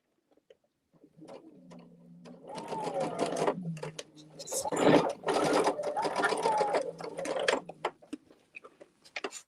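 A sewing machine runs in steady bursts of rapid stitching, close and fairly loud, with short pauses between runs and faint talk underneath.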